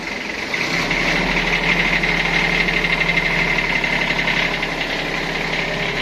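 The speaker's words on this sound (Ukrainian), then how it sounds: "Виїжджаємо з гаража потихеньку, на холостому не спішу." A Kubota Aste A15 tractor idles as it eases out of a garage, its engine giving a steady, close, knocking rumble with a constant vibrating texture and no talking.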